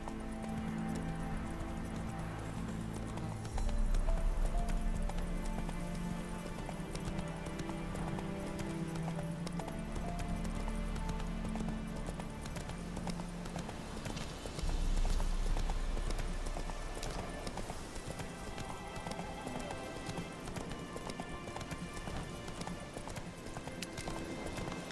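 Roach the horse's hooves clip-clopping in The Witcher 3: Wild Hunt, a steady rhythmic trot with jingling tack, game music and ambient sound throughout, and a couple of louder low swells.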